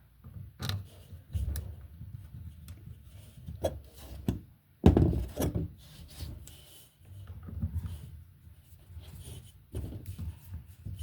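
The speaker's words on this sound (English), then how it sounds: "So now we'll get a red wire nut and we'll put it on here." A red wire nut twisted onto three electrical wires at a junction box: close rubbing and gritty scraping in short bursts with brief pauses, one louder grind near the middle.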